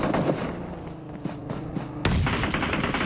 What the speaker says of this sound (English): Nade after nade.